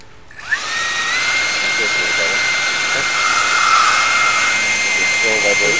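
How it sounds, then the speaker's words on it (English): An electric ducted fan motor spins up on throttle into a loud, steady high-pitched whine with strong tonal harmonics, close and sustained after a brief start, while people talk over it. "You hear a little bit of motor noise"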